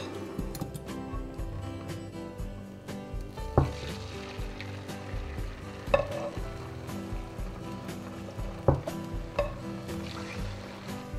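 Beaten eggs for an omelette poured into a hot pan with clarified butter, giving a steady soft sizzle and frying crackle with occasional sharp clicks and taps from utensils, close by and without talk.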